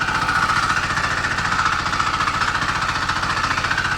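A DTZ 560 DN walk-behind tractor's single-cylinder engine running in under load in second gear, a loud, close, steady rapid chugging with a hard knocking pulse.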